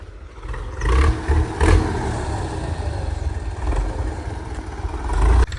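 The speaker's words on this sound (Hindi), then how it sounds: "इतनी आवाज करता है ये रूसी ट्रैक्टर है" A loud Russian tractor runs in a rural village, its heavy, rumbling engine surging in bursts and clattering steadily up close, with no speech.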